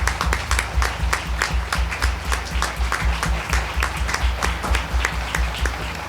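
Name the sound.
congregation applauding those to be baptized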